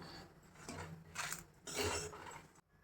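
Roasted chillies and cumin being tipped from a pan onto a plate, faint scraping and light metallic clinks in two or three short bursts, fairly close and quiet, with no voices.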